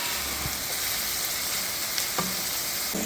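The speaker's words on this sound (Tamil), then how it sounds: "இறால் அள்ளி போட்டுட்டு பட்டரில் நல்லா இறாலை பிரட்டி விட்டுருங்க." Prawns fry in butter in a pan for butter garlic prawn masala, a loud, steady close sizzle with a few soft scraping stirs, and no talking.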